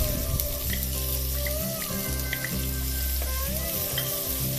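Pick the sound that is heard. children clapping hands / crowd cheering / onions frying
onions frying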